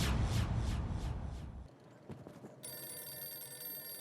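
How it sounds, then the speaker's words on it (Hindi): A telephone in a Hindi TV comedy set in a housing society starts ringing midway with a steady electronic ring tone. It follows a fading clatter and brief knocks and plays fairly quietly. "ये भिड़े बार बार क्यों फोन कर रहा है?"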